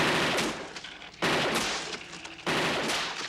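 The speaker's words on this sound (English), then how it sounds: "Nancy Allen, in her character, is shooting at a target. Peter Weller is Robocop shooting" Heavy gunfire from the film Robocop during target shooting, with continuous loud rapid bursts of shots in three long rounds separated by short breaks, and no voices.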